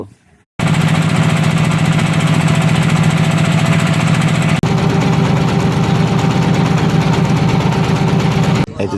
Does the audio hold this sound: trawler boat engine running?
yes